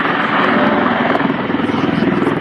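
A tiltrotor aircraft hovers nearby at an air show with a loud, steady rotor drone and rhythmic blade chop that stays constant.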